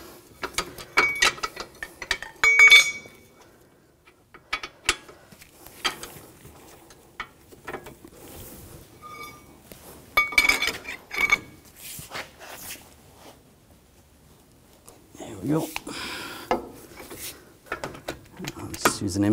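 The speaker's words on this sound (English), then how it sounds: "I'm using a H17 socket or a hex 17 millimeter socket. I'm just gonna loosen this up." A 17 mm hex socket on a ratchet loosens a bolt on the front left CV axle of a 2004-2009 Audi A4 Quattro, with intermittent bursts of close metallic clicking and clattering separated by quiet pauses.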